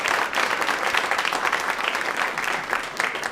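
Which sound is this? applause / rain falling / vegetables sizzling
applause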